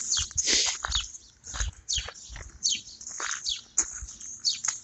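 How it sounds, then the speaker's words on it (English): A persistent bird calls repeatedly through wet, stormy weather: a run of sharp, bright chirps and trills in an irregular rhythm, fairly close, with faint background noise between the calls. "there's an annoying bird in that"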